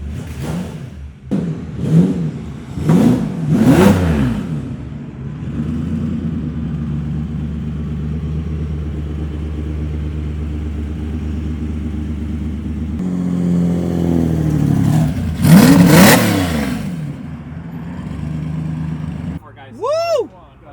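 750hp twin-turbo Lamborghini Diablo with a lightweight flywheel, driven hard: sharp rev bursts, a long steady engine drone, then a loud surge, with people talking and whooping over it inside the car.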